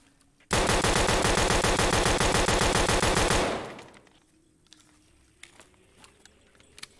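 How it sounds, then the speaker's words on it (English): Video game gunfire from a pistol: a rapid, loud burst of repeated shots lasting about three seconds, then it cuts off, leaving quiet background with faint clicks. "I want to try this pistol, too."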